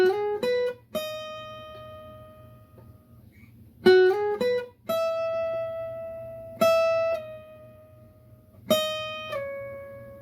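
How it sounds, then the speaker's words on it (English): Electric guitar plays the opening melody of a song alone, plucked notes in short clusters with slides between pitches, each phrase ringing out before the next begins. "We can play that electric guitar melody that happens in the beginning of the song."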